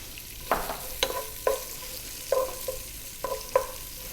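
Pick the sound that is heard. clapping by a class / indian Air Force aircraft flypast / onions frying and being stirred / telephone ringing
onions frying and being stirred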